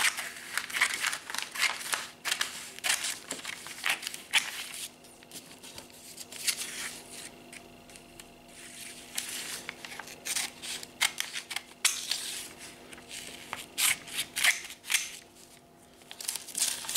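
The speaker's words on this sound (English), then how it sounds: "So I'll cut some things out of this." Scissors snip through a glossy paper supermarket brochure in close, crisp cuts with intermittent crinkling of the pages, irregular in rhythm and quiet, without any speech.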